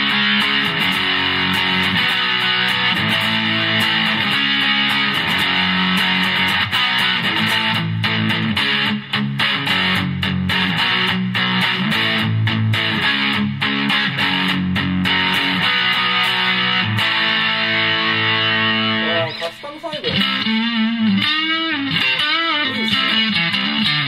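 Electric guitar, a Yamaha Pacifica made in Indonesia, played through heavy distortion, loud sustained chords and riffs ringing out alone for over twenty seconds, ending with bending, wavering notes.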